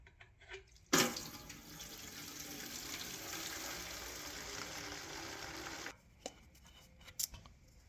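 A diesel and gasoline mix drains out of a locked-up tractor engine in a steady splashing pour lasting about five seconds, close by, with a few clunks before and after.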